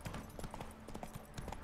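Horse hooves clip-clop steadily in The Witcher III video game as the rider's mount trots along, an even rhythmic series of soft thuds over a low game ambience.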